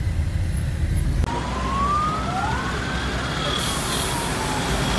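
A fire engine siren wails at a crash scene where a minibus and car overturned, rising and falling tones sweeping over steady traffic and engine rumble, moderately distant.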